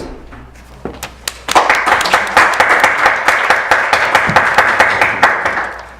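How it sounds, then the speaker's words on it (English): An audience at a school mock Supreme Court case event applauds the contestants: after a few scattered claps, loud steady clapping swells in and continues evenly close by, with no talk over it. "let's take a moment to give our contestants a round of applause"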